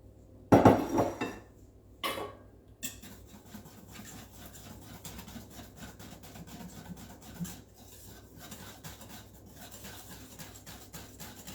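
A spoon scrapes and stirs chocolate mascarpone fondant cake batter in a bowl, opening with a few loud clinks against the bowl before settling into steady, soft rubbing strokes.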